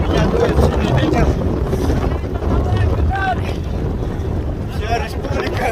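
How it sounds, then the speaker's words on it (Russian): Strong headwind on a marathon course, heard from a cyclist riding alongside the runners, buffets the microphone in loud, rough gusts that rumble continuously and close. "Здесь сильный встречный ветер, который играет против спортсменов."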